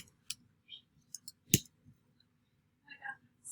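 Computer mouse clicks while working in Desmos: a few sharp, isolated clicks spaced irregularly, close and clear, with a quiet voice in between.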